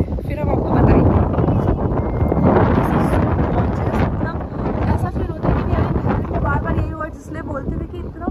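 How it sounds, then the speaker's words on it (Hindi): Strong wind buffets the microphone at Tehri Dam, a constant loud rumbling roar with gusty swells, while someone talks over it throughout. "हवा हवा इतनी बढ़िया चल रही है"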